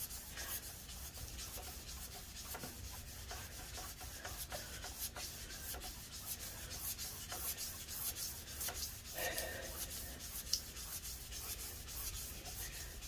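Continuous close rasping of hand sanding and polishing on an International Harvester 300 Utility tractor crankshaft, short quick back-and-forth strokes at an even pace, fairly quiet with no talk.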